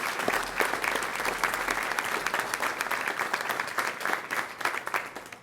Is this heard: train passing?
no